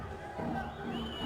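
Boxing crowd at a world title belt fight applauding and murmuring, a steady mid-distance wash of clapping and voices that swells slightly partway through.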